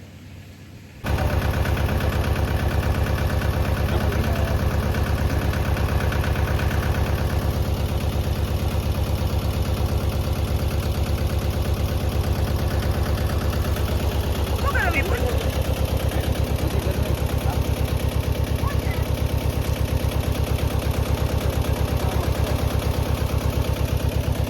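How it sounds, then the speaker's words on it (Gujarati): A tractor fitted with a seed drill works a field during sowing, its engine running as a steady, loud, continuous drone from start to finish, with faint voices underneath. "મસ્ત જો વાવણી થાય છે, ઓરણીવાળું ટ્રેક્ટર આવ્યું છે"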